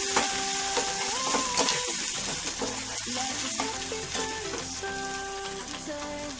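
Okra and ripe red chilli mixture frying and being stirred in a pan, a Rayalaseema-style dish, giving a steady continuous sizzle throughout with faint tonal background sounds.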